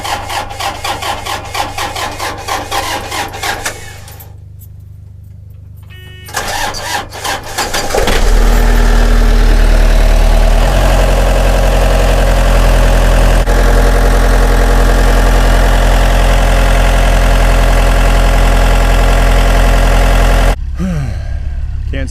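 A boat engine cranks with a rough, rasping starter sound, pauses, then catches and settles into a loud, steady idle that runs for over ten seconds before cutting off abruptly near the end.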